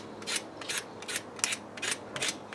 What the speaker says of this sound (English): they say you're supposed to scrape the bottom of the rose an inch or 2